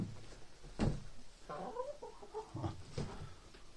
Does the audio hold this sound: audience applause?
no